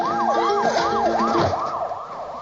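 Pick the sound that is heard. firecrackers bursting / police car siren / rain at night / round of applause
police car siren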